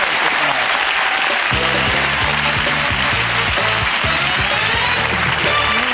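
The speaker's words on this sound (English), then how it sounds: "Give Dad a round of applause for flying back from Mexico tonight." A studio audience at a 1996 BBC television show gives sustained, loud applause with dense clapping throughout, while a voice talks over it.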